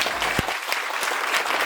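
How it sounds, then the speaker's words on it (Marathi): An audience at a business guidance event applauds, a brisk, fairly loud patter of many hands clapping together for a short burst, with a few sharper individual claps standing out. "एकदा त्यांच्या जोरात टाळ्या झाल्या पाहिजे."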